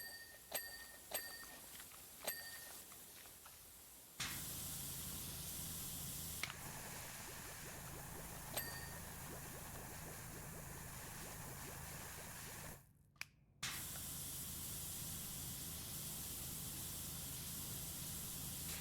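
Steady broadband hiss of a pressure washer jet in a power-washing video game, running continuously for long stretches with a brief cut-off and restart, punctuated by a few sharp clicks and chimes at the start.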